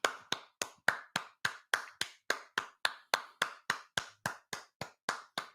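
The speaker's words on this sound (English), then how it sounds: "Let's clap it up for that judge." A single pair of hands claps steadily and briskly, about twenty sharp close claps in an even beat with no voices over them.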